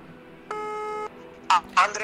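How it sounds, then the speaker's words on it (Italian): On a live radio call-in show, a telephone ring tone sounds once as a steady buzzing note lasting about half a second, then voices start talking over the line. "Sta squillando."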